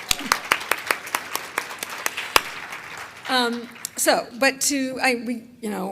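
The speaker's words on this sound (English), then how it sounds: "she really deserves a round of applause" A small conference audience claps in a brief burst of applause that fades out as a voice begins speaking over the last few claps.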